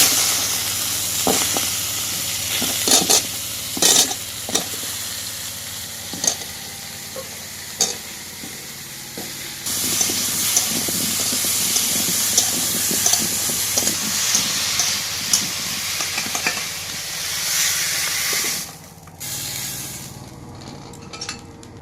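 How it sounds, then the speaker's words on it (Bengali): Pumpkin pieces fry in oil in a pan at an outdoor Sundarban kitchen, a steady close sizzle with intermittent scraping and stirring clicks, swelling louder partway through and easing near the end. "এবার কুমড়োগুলো ভেজে নেব।"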